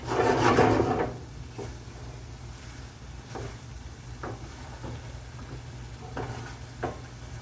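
Masala cabbage and potatoes being stirred in a pan, with soft scraping and rubbing strokes repeating at an uneven pace, a louder burst of mixing at the start and then quieter scrapes over a low steady hum.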